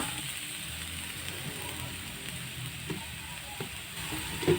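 Papaya pieces sizzle and fry in hot cooking oil in a home kitchen, a steady close crackle with occasional soft stirring clicks and pops, no talking.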